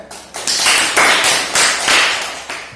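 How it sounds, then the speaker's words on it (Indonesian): Audience applause in a classroom for a student presentation group, a burst of clapping rising and falling in several waves over about three seconds, loud and close with no talk. "Terakhir, kita beri tepuk tangan untuk kelompok 2, kelompoknya Yati"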